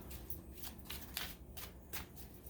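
Tarot cards are shuffled by hand in repeated quick riffling bursts, crisp papery flutters close up at an uneven rhythm, with no voice over them.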